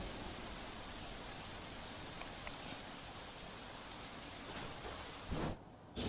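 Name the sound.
heavy rain falling in Kalol city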